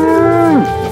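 A single loud cartoon cow moo, close by, holding a steady low tone before sliding down at the end.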